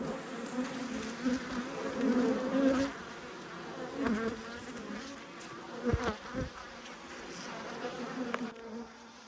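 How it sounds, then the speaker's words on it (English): Italian honey bees fill an open hive's top box with a steady, dense buzzing that swells and fades slightly, close up, with a few sharp clicks and knocks from hive handling. "Plenty of bees in this top box."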